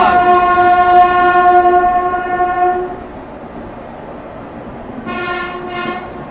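A train hauled by a WAP-7 electric locomotive arrives at Kanpur Central, its long horn blaring loud and sustained for about three seconds, followed by two shorter horn blasts after a brief quiet stretch.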